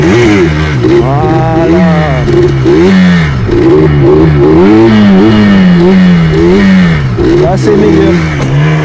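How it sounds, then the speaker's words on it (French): A quad bike's engine revs up and down repeatedly during wheelie practice on tarmac, loud and close, rising and falling in pitch with throttle blips, while someone talks over it. "il faut quand même mettre du gaz"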